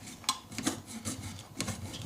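Saw blade cutting EVA foam, a close-up series of short rasping strokes in an uneven rhythm, quiet and without talk.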